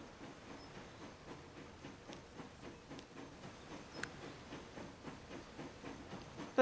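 A train pulls into a station in the simulation game Transport Fever 2, giving a faint, soft rhythmic clatter of wheels with occasional light hissing and clicks.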